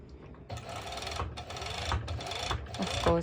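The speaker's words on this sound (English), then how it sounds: "now I'm going to my serger and I'm going to serge it" A serger runs on fabric in several bursts of steady mechanical whirring, close and fairly loud, with brief pauses between runs.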